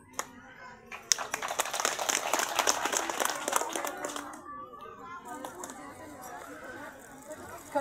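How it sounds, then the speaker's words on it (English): A graduation audience applauds with a burst of clapping that rises sharply, sustains loudly for a few seconds, then thins out as scattered claps and chatter linger in the hall. "Let us clap our hands for all of them."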